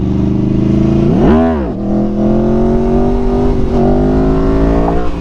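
Motorcycle engine revving hard during a clutch-up power wheelie, a loud close rev that rises sharply, dips, then settles into a steady engine note.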